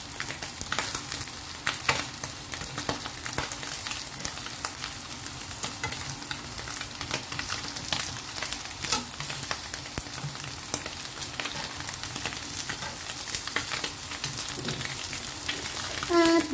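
Fish frying in hot oil until golden and crispy, a steady dense sizzle with crackling pops running unbroken throughout, close and fairly loud.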